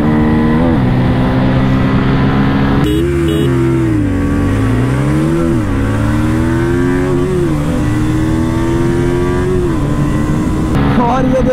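Pulsar F250 and KTM RC200 motorcycles accelerate hard side by side in a drag race, their engines droning loud and close. Pitch climbs and drops through gear shifts over steady wind noise.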